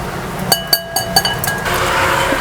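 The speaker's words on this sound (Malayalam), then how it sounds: "നന്നായിട്ടൊന്ന് മിക്സ് ചെയ്യാം." Muffin batter stirred with a quarter cup of yogurt in a bowl, giving a few sharp clinks of a spoon against the bowl, then a soft, steady scraping.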